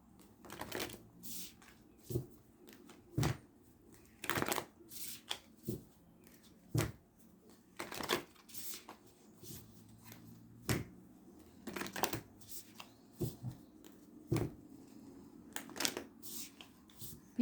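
Tarot cards are shuffled close by in repeated quick riffles and snaps, short crisp bursts arriving at an irregular pace over a quiet background.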